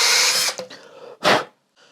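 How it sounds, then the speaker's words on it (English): A 12 mm step drill bites into a surface in short bursts: a loud whirring cut, a brief pause with smaller scrapes, then another sharp burst before it stops. "12 mil step drill."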